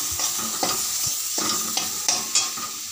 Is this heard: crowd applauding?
no